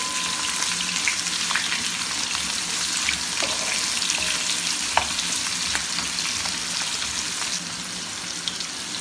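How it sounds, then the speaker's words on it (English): About two medium onions frying in hot oil while being stirred, a steady close sizzle with scattered crackles and occasional scraping of the spoon in the pan. "I'll be adding the onions now to the oil"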